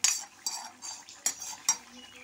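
A spoon clinks and scrapes against a pot while bata fish broth is stirred into water, producing soft, irregular metallic taps over quiet background.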